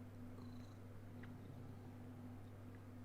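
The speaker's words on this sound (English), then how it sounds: "Somebody's cat is purring up." A domestic cat purrs faintly and steadily, alone, over a low constant hum.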